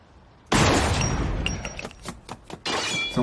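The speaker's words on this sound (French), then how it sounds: "Dans un déluge de balles et d'explosions bien plus fracassantes que Spike y arrive" Gunfire and explosions from the Cowboy Bebop anime erupt suddenly in a loud crashing blast, followed by a volley of sharp shots and shattering impacts and another heavy burst.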